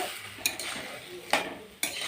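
Garlic and tomatoes being stirred in a frying pan: three sharp metal spoon scrapes and clinks against the pan over a faint low sizzle, close and alone without speech.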